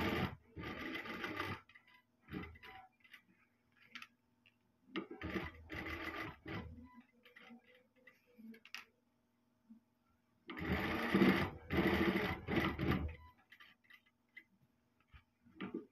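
A tailor's sewing machine stitches a shirt collar in three close, loud bursts of rapid mechanical chatter, separated by quiet pauses with faint handling noises.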